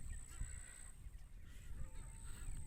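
A duck at Dubai Love Lake gives faint, distant honks against a steady outdoor background hum.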